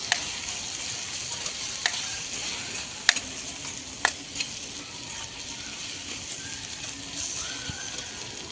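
Chilli powder and turmeric stirred into a cooking pan for a Mehsana-style tuver dish, a soft continuous sizzle with a few sharp spoon clinks against the pan, fairly quiet and close, no talking.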